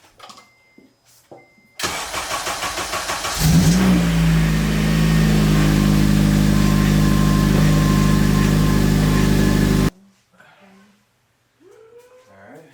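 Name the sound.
Acura TSX engine cranking and starting up after repair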